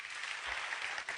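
An audience applauds in a brief burst, a dense spatter of clapping lasting just over a second at moderate level.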